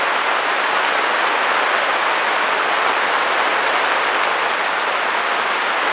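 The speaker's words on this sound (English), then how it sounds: "So I would like the rain to stop now." Steady rain falling outside during an acrylic pouring session, a dense, even hiss of drops that stays constant throughout with no talking.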